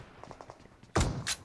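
A pump shotgun fires in PUBG Mobile, two sharp, loud blasts close by, following a light patter of quicker, fainter shots in the distance.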